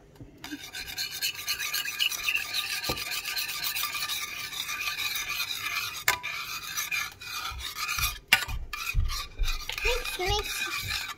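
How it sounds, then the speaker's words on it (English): Garlic being stirred into an egg dish in a pan, a steady scraping, rasping mix that runs continuously at close range with a few sharper knocks and scrapes. "Now it's time to put garlic. Now mix it all up."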